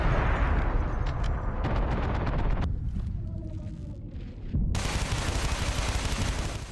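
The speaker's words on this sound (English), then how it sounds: "let's do some shooting" Gunfire in SOCOM 4 on PlayStation 3 with the Move controller comes in loud rapid bursts of shots. The firing drops away to quieter scattered noise, then erupts again in a dense, heavy barrage.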